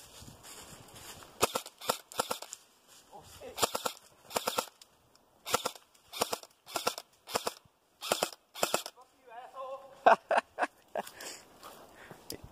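Gunshots fired while squirrel hunting in the woods: about a dozen sharp, separate cracks in irregular bursts, moderately close, with brief rustling between them and a voice near the end.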